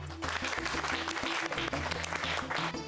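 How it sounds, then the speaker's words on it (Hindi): Crowd clapping at a neighbourhood welcome for a new bride, steady and fairly loud over a rhythmic musical backing with drum beats, continuous for a few seconds. "बजाओ ताली"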